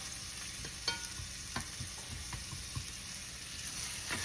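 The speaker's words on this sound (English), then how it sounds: "bacon grease pops and it will ruin your clothes" Bacon frying in a pan for pan-seared shrimp with bacon and spinach risotto gives a faint, steady sizzle with sharp scattered pops, heard alone.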